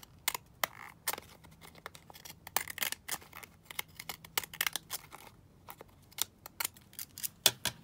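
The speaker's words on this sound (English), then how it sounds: "Just trim across here. And then just trim down the edge." Scissors trimming paper junk journal ephemera cut from a blue book page board, with sharp close snips coming in irregular bursts and short pauses between cuts.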